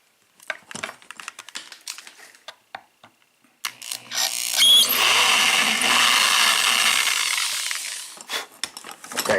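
A drill bores a pin hole in an Arrow KIK six-pin lock cylinder, starting after a few scattered clicks and handling taps, then grinding steadily for about five seconds before trailing off into more small knocks.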